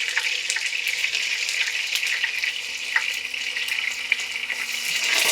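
Tofu strips fry in very hot oil in a home kitchen, giving a steady, close crackling sizzle with scattered pops and spatters throughout, with no talking.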